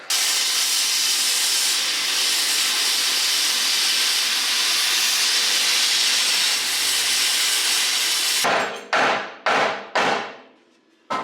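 Metal parts for a Jeep build being cut, a loud continuous harsh hiss of a cutting tool running steadily for about eight seconds, then several short bursts as it is triggered and released before stopping.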